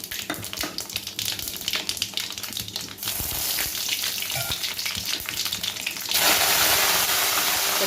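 Cumin seeds, fenugreek and a dried red chili fry in hot oil for a tempering, crackling and spattering with stirring scrapes, then swelling into a louder, steady sizzle for the last couple of seconds.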